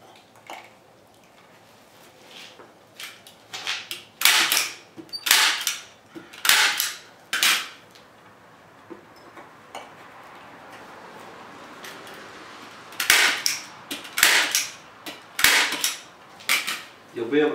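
A staple gun fires staples through canvas fabric into a wooden frame while an art canvas is stretched, giving sharp, loud snapping shots in irregular clusters with quiet gaps between them.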